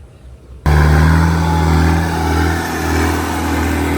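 A farm tractor engine fitted with a rotavator starts up abruptly after a brief quiet moment, then runs loud and steady with a deep, even drone close by.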